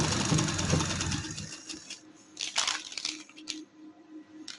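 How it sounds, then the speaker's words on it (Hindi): Sewing machine stitching over a seam on a black trouser, a brief close burst of rapid mechanical whirring that cuts off after about a second and a half, followed by scattered clicks and handling noises. "ऐसे ट्राउज़र पे रख के हम इसकी सिलाई पे सिलाई लगाएंगे।"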